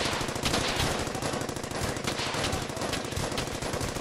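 Sustained rapid bursts of machine gun fire in the World War II shooter Brothers in Arms: Hell's Highway, loud, dense and continuous throughout with overlapping shots and no speech.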